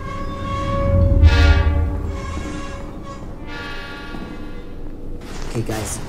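Train in a Roblox tunnel game rumbling past loudly with long, layered horn blasts that rise and fall over several seconds, ending in a shrill high whistle-like tone.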